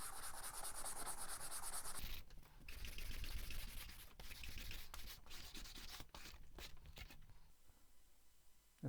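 Wood sanded by hand with a cheap sanding block, a rough rhythmic rasping of back-and-forth strokes, close and fairly quiet, with no talk.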